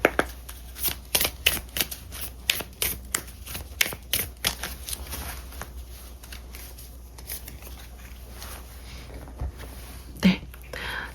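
Tarot cards being shuffled by hand in a steady run of quick, papery riffs and taps, close and fairly quiet, thinning out toward the end with one brief louder flick.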